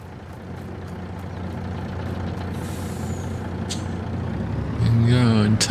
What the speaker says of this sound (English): So let's go back and get the truck